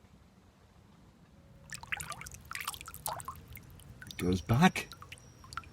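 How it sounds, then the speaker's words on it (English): Water drips and trickles off a perch as it is released by an angler, a few soft patters and then a louder splashing run close by, with someone speaking quietly over it. "It's a lovely sound, isn't it? The water coming off the fish."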